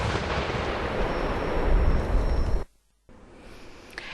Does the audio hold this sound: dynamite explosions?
yes